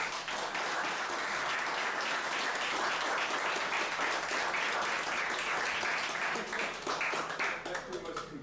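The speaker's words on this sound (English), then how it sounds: "let's give all of our candidates applause" Audience at a candidates' forum in Brunswick, Georgia breaks into sustained applause, a dense steady clapping that lasts several seconds before thinning out, with scattered voices mixed in.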